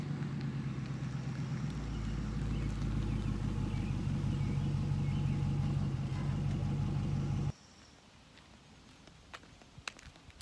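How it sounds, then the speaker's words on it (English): A parked car's engine idles with a steady low rumble for about seven seconds, then cuts off abruptly, leaving quiet outdoor background with a few faint clicks. "That's my car."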